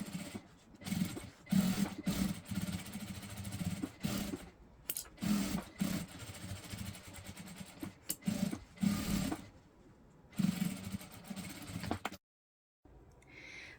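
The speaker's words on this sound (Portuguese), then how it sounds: "faço uma costura em toda a volta para unir o corpo da peça com o meu bolso" A sewing machine stitches all the way around to join a pocket to the body of a practical bag. It runs in close, rapid bursts with short pauses between runs, then falls silent near the end.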